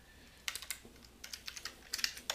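Quick bursts of keystrokes on a computer keyboard enter a render command in Maya, close-up clicks in short clustered runs with brief pauses between them.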